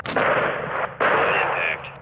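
Small arms fire from the Call of Duty Modern Warfare 2 video game comes as two loud, close bursts of gunfire, each roughly a second long, with a brief gap between them.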